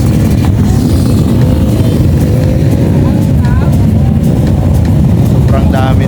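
Dense, continuous engine drone from a large mass of motorcycles rolling past at a group ride event in Iloilo, with several nearer bikes rising briefly above the crowd of engines and voices talking underneath.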